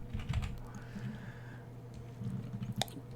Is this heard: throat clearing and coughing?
no